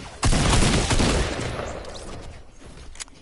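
Rapid bursts of gunfire in a Fortnite match erupt loud and dense, then taper into scattered, fainter shots over a few seconds.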